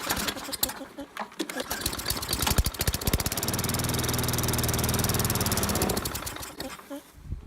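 Craftsman lawn mower engine running unevenly and sputtering as it starves for fuel, a steady mid-clip drone that surges and fades between rough catching bursts.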